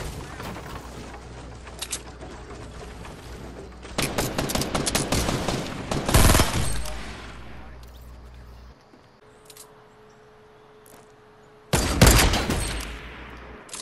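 Video-game gunfire in bursts, with dense volleys erupting around four to seven seconds and again near twelve seconds, loud and close, separated by quieter stretches.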